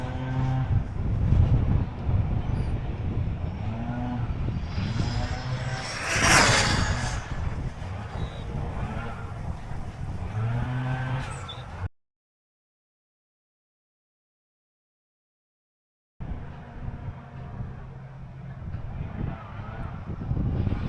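A Rlaarlo SBK10 RC buggy on a 4S battery making a speed run, a loud rushing roar with wind noise that cuts out for a few seconds, then returns.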